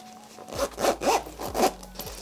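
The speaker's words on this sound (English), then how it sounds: "You can go double zip here, so on each side, depending on what you fancy." A zipper on an Able Carry Core Sling bag is pulled in several quick, rasping strokes, close and clear, with no talking.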